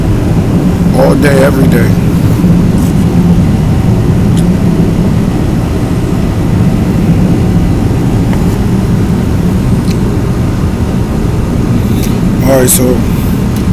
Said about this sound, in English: I might pause while this plane go by because it's loud as fuck.